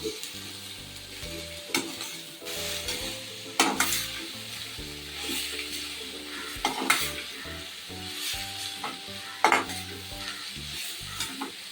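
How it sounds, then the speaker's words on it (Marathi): Jackfruit vegetable sautéed with onion in a pan sizzles steadily while a spoon stirs and scrapes, with occasional sharp clinks against the pan and no speech. "त्यामध्ये मी आता फणसाची भाजी घालून घेते. मी आता छान परतून घेऊया."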